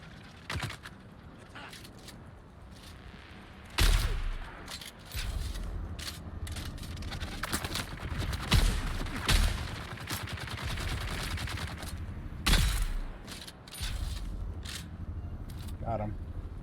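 Automatic gunfire in the shooter game Dune: Awakening, with sharp bursts of shots at irregular intervals, some loud and close, others lighter, over steady background game noise.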